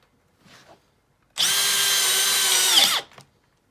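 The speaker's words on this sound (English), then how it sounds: "now we'll drive it in with the Brushless Makita XPH07" Makita XPH07 brushless hammer drill driving a screw into concrete: one loud, steady burst of about a second and a half. The motor slows slightly just before it stops, and faint handling noises sit on either side.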